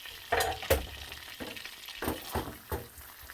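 Garlic sizzling in melted butter in a pan, a soft steady frying hiss punctuated by a few louder stirring scrapes and bursts of crackle.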